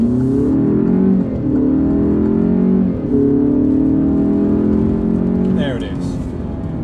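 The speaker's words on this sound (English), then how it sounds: "I'll show you a quick 0 to 60." Alfa Romeo Giulia Veloce accelerating hard from a standstill to 60 mph, its engine revving loudly up through several quick gear changes, close and steady.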